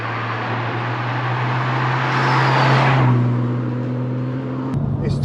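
A track-prepared, remapped BMW M135i clubsport hot hatch accelerates hard on the road, its engine note rising steadily then cutting off sharply near the end, loud and close throughout.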